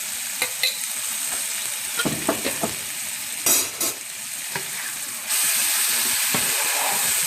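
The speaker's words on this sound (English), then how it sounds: "It's all sauteed around." Garlic sautéing in a hot pan for linguine with white clam sauce gives a loud, continuous sizzle broken by a few scraping stirs, and the hiss swells sharply near the end.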